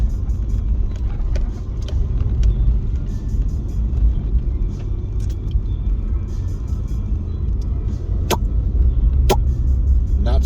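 A city bus rolls past an empty stop without stopping, a steady low engine rumble and road noise that holds throughout, with two short sharp hissing bursts near the end like air brakes.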